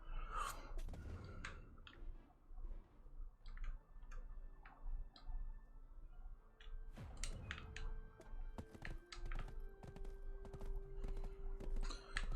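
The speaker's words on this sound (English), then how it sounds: "Is my donkey just running like incredibly slowly because I'm carrying all the weight?" Donkey hooves clip-clopping in Black Desert as the animal runs under a heavy load, a quiet ticking patter of steps over low ambient game sound, continuing steadily throughout.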